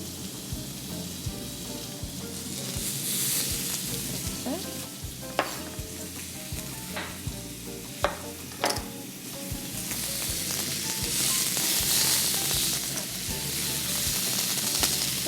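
Large pieces of peach and apricot searing on a grill pan, a continuous close sizzle that swells louder in stretches, with scattered clicks and scrapes as the fruit is turned, and no speech.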